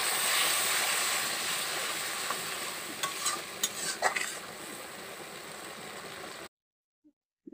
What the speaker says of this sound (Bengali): মশলাটা আমি এমনভাবেই কষবো একেবারে সব গলে যাবে